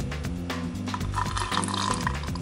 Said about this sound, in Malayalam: നമുക്ക് ഷേക്കറിലേക്ക് ആദ്യം ഒരു നാരങ്ങയുടെ നീരൊഴിക്കാം